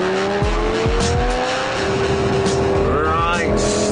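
A Lamborghini Gallardo brakes hard from around 100 mph, its engine roaring loudly and tires squealing in a rising, wavering screech near the end, with someone talking over the car noise throughout.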